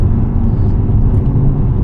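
A 2006 Porsche Cayman S 987 with a six-speed gearbox drives on twisty roads, a loud, steady low engine and road rumble heard from the cabin with no talking.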